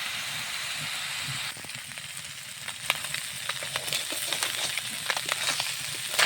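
Fish frying in hot oil in a home kitchen, a steady broadband sizzle with scattered sharp crackles and pops throughout, fairly close and continuous with no talk.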